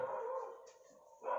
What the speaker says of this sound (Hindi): यार ये कुत्ता भौंक रहा है, मेरा दिमाग खराब कर रहा है।